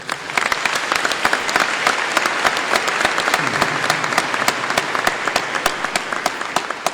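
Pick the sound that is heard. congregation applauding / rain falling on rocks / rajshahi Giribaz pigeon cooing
congregation applauding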